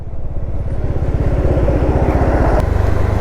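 A Bajaj Dominar 400 motorcycle rides along a mountain road toward Manali, its close, loud engine pulsing in a fast, even low beat that changes pitch slightly near the end.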